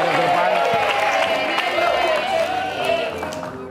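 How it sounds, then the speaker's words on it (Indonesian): A studio audience on the dating show Take Me Out Indonesia applauds a couple, with a dense wash of clapping and crowd cheering that carries through the clip, and a host's voice talks over it. "boleh kita berikan tepuk tangan untuk Fanny dan juga Angga"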